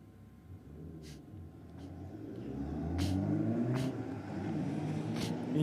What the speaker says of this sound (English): we've got a BMW on its way out in the rocket lane